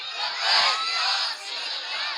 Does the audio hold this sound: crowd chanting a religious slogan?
yes